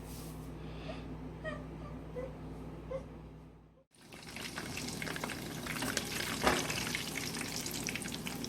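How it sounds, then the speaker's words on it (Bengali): Homemade mini doughnut balls drop into hot oil, and after a brief hush the frying breaks into a loud, steady bubbling sizzle close to the pan. "এখন মিনি ডোনাটগুলো আমি তেলের ভিতরে ভাজবো।"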